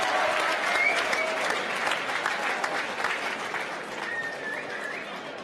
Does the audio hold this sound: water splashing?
no